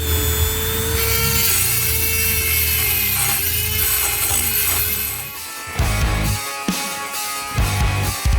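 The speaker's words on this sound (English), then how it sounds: "I'm going to take probably the Dremel and grind a little V all the way around this" A Dremel rotary tool grinds a V groove into the cracked metal of a Polaris Predator 500 ATV, giving a loud, continuous abrasive whine with a steady pitch. It grows rougher and more uneven toward the end, with no talking.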